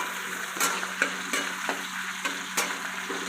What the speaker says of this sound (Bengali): তেল গরম হয়ে আসছে, এর মধ্যে আমি তেজপাতা দিয়ে দিলাম আর কেটে রাখা পেঁয়াজের টুকরো করে দিয়ে দিচ্ছি।